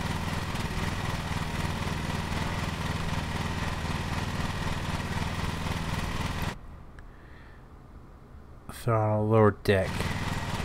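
Lawn mower engine from the Lawn Mowing Simulator video game runs as a loud, steady drone for about six seconds, then cuts out to near quiet before a short burst of higher mechanical noise; someone talks over it.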